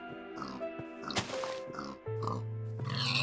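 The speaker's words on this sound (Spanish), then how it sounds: "¡Oh, un cerdo!" A Minecraft pig grunts and oinks several times close up, the blocky game sounds layered over steady synthetic tones and clicks, with no talking.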